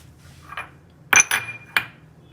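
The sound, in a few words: sifting dry fruits (almonds, cashews, walnuts) with flour through a sieve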